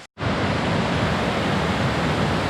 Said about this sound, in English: This is Meadow Creek Falls in Wayne County, Kentucky.